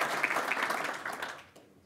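A golf federation meeting audience claps in a short burst of applause that swells and then fades out over a couple of seconds.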